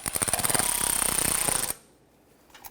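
Ford Ranger oil pan bolts are run down on a 1993-1997 truck with a rapid, loud ratcheting power-tool rattle lasting under two seconds, then a sudden cutoff to near silence.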